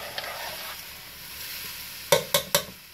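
Potatoes sautéing gently in a pan over very low heat, a soft steady sizzle close by, then three quick sharp taps of a utensil against the pan near the end.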